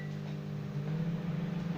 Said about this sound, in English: We'll stick the old microwave on.